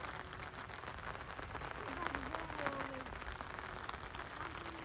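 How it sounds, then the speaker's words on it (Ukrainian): Light rain falls at a lakeside family fishing spot, a steady soft patter across the whole stretch, with faint distant voices mixed in. "Почався легенький дощик"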